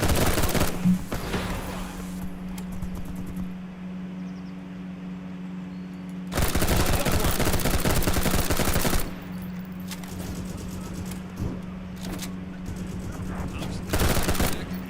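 Full-auto US carbine fire in a video game, with loud sustained bursts of rapid shots, one lasting several seconds, separated by quieter stretches with a steady hum.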